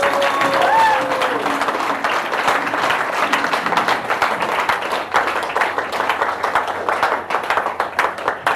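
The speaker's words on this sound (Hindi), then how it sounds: "मैं चाहूँगी कि डीएक्शन प्लेटफॉर्म के लिए एक जबरदस्त ताली होनी चाहिए" An audience at a talk applauds a platform being presented, a thick and fairly loud wash of many clapping hands that slowly thins out toward the end, with a voice heard over it near the start.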